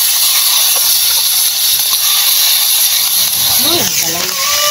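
Garlic and onion sizzle in a hot pan for a home-cooked farm-style dish, a steady close hiss that fills the whole clip while a voice talks faintly over it.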